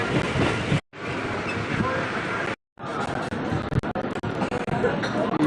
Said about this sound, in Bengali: বালিগঞ্জ প্ল্যাটফর্মে ট্রেন দাঁড়াবে